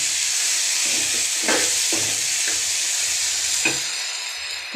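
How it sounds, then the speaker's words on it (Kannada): Onions and tomatoes frying with salt in a pan, a bright steady sizzle with several soft scraping stirs, fading slightly toward the end. "ಈಗ ಒಂದು 2-3 ಮಿನಿಟ್ಸು ಫ್ರೈ ಮಾಡೋಣ."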